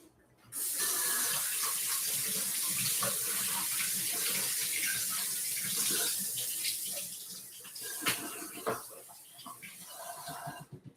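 A tap runs steadily while a purple carrot is washed under it. The water pours loud and continuous and close, then breaks into splashing and uneven gurgles near the end, with no speech.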